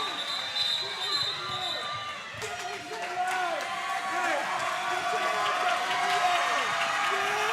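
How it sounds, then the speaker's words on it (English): A gymnasium crowd at a girls' high school basketball championship game gives a sustained round of applause and cheering for a senior player stepping off the floor, with a steady roar of claps, shouts and ball bounces throughout. "Tazabi, a senior, stepping off the floor, getting a round of applause from the crowd."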